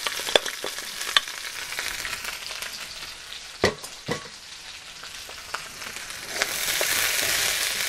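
Garlic and chilies fry gently in a pan with a continuous soft sizzle, broken by a few sharp clicks and scrapes of stirring, and the sizzle swells louder near the end.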